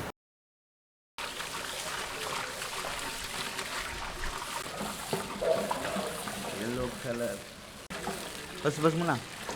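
Water runs steadily into a large cooking pot holding rice for a kheer sweet, a continuous trickling pour, with someone speaking over it.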